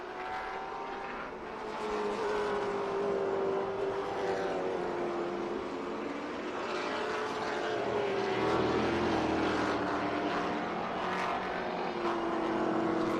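Cars in a vintage and modern road-racing event at the VIR racetrack roar past, a loud continuous engine drone with rising and falling pitch as machines sweep by close, steady throughout with no talk.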